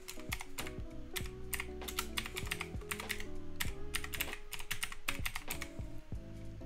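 Rapid typing on a computer keyboard, a dense run of crisp key clicks with brief pauses, close and steady throughout, no voices.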